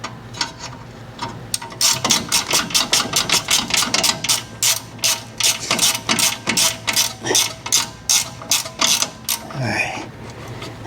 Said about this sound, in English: Sometimes you need to just put your wrench on there and start spinning it through.